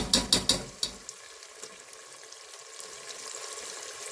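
Pepper paste frying in a pan for a Turkish green bean dish, a few sharp clanks of a utensil at first, then a soft, steady sizzle continuing quietly alone.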